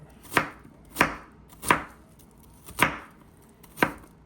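A knife chops through an onion on a board in five sharp, evenly spaced strikes, each a crisp close thud with a short tail, with near silence between them.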